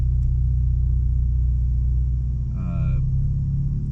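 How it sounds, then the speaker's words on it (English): A Ford Bronco fitted with an MRT dual-tip exhaust and Black Ops Cerakote finish idles with a steady, deep low rumble, near and constant, with a brief voice-like burst over it near the end. "So at startup, definitely have a sporty sound, very deep"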